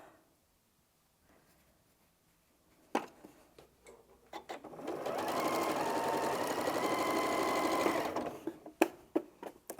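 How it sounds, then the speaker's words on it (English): A sewing machine stitches quilt blocks in one sustained, close whirring run of a few seconds. Soft handling clicks and taps come before and after the run. "let's go straight to the machine and get those sewn"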